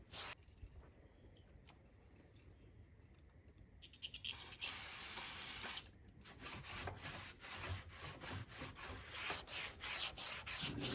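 Brake cleaner is sprayed onto old yellow glue residue on a truck cab during seal replacement, a steady hiss of about two seconds between quieter rubbing and handling sounds.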